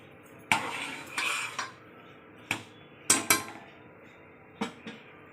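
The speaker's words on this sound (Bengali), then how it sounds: "এই যে দুটো এলাচ ফাটিয়ে দিচ্ছি" Cardamom pods cracked by hand over a pan of milk for Bengali roshopuli pitha, giving a handful of sharp, close clicks and snaps spaced irregularly over a quiet kitchen background.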